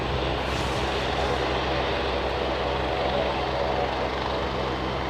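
An ATR 72-600 turboprop airliner at Aberdeen airport, heard as a loud, steady, droning engine roar that stays continuous and close, with no talk.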